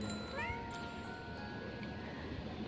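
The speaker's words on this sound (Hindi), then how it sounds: "बिल्ली।" A single brief meow from a cat in the video game Baby in Yellow, rising in pitch and fairly faint against a steady hum of game ambience.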